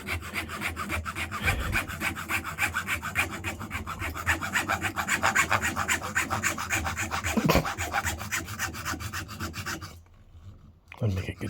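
Hacksaw cutting through material while fixing fan blades, a quick rhythmic rasping of back-and-forth strokes that runs for about ten seconds, briefly stops, then resumes with a final stroke.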